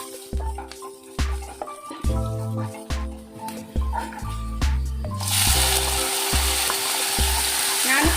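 Ginger, garlic and tomato sautéing in a pan, with repeated stirring scrapes and clinks over a low sizzle that grows into a louder, steady hiss partway through.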